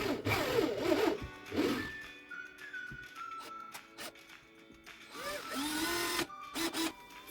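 A power drill drives screws into a wooden enclosure being built for a Burmese python, with whirring bursts that rise and fall in pitch, close and fairly loud, separated by quieter handling and rubbing noises.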